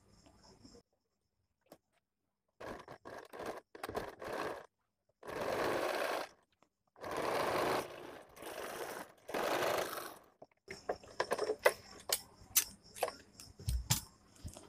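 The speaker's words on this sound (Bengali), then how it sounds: "এইভাবে সাইড থেকে সেলাই দিয়ে দেবেন একদম বরাবর করে" A sewing machine stitches the side seam of a round-neck pleated nightgown, running in several steady bursts of a second or two each, separated by pauses, then giving way to lighter clicking and handling sounds.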